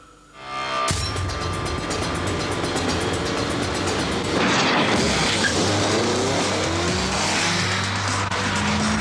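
A Tesla Roadster electric sports car with a single-speed gearbox accelerates hard from rest, giving a loud, steady, rising electric motor whine with a tyre-and-road roar that builds strongly, with no voice over it.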